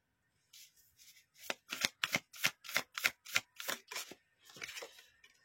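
Tarot cards handled at a reading: a rhythmic series of about ten crisp riffle-shuffle slaps and flicks, close and fairly quiet, ending in softer sliding as cards are drawn.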